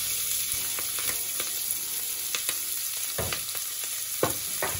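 Spring onions frying in olive oil in a pan, giving a steady, dense hiss with a few soft scraping stirs near the end, close and continuous, with no talking.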